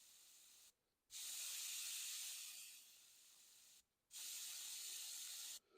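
Airbrush spraying paint onto a Warhammer miniature, close steady hissing in two long bursts separated by brief silent pauses, with a third burst starting at the end.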